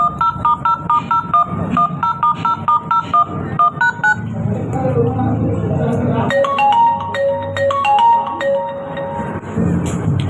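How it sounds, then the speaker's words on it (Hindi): A telephone keypad being dialed, with a quick series of evenly spaced beeping tones followed by a ringing line, close and clear, with background sounds and voices mixed in. "मिस्टर आयुष, आप ऐसा कीजिए कि अभी के अभी ऋषभ के पापा को फ़ोन कीजिए"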